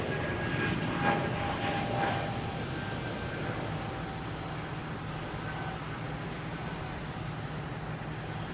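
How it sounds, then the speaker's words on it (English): A JetBlue airliner at Boston Logan Airport gives a steady, moderately distant engine rumble, with a brief swell in the first couple of seconds before it settles into an even drone. "we have a JetBlue coming in from Cleveland and a JetBlue heading to Pittsburgh"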